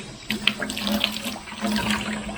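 Water gushing out of a radiant floor heating loop as it is filled, a close, splashing steady flow with a few gurgling bursts.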